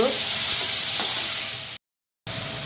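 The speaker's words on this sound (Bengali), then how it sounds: "টমেটোটা মশলার সাথে ভালো করে কষিয়ে নিব" Chopped tomato frying with spices in a pan for egg curry, a steady close sizzle with faint stirring, cut off by a short silent gap before the hiss resumes.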